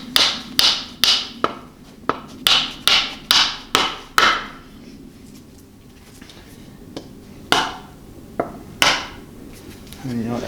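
An old axe handle pounds a glued wooden wedge into the kerf of an axe head. There are about ten sharp, loud wooden knocks in a quick steady run, then a pause and a few scattered blows. No one speaks.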